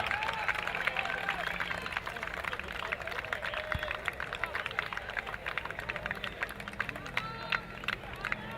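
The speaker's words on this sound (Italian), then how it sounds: "Un applauso." Scattered applause from a small crowd at an outdoor football tournament prize-giving for the best player, a steady patter of claps with background chatter, moderately distant.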